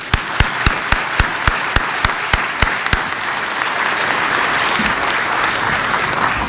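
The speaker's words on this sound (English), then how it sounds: "Let's do one more round of applause for everybody tonight." An audience at a 2015 government excellence awards ceremony gives a round of applause, opening with a loud, evenly spaced clap beat that dissolves into a sustained, steady wash of clapping from the crowd.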